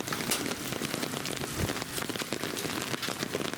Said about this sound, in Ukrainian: Блін, дощ іде, а я тут Видео знімаю.